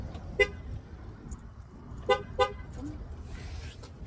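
A car horn toots as the vehicle is locked: one short beep, then two quick beeps about two seconds later, fairly close over soft traffic and background voices.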